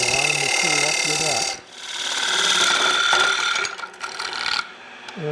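Woodturning tool cutting a coopered birdhouse part on a lathe, a loud continuous scraping rasp that dips briefly and returns, with a voice speaking at the start and end.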